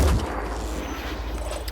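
A single heavy shot from Phoenix Point, a short loud boom at the start followed by a low rumbling tail.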